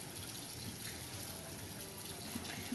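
Water runs steadily from a salon sink tap as it warms before a hair rinse after cap highlights, a continuous broadband gush at close range with no voices.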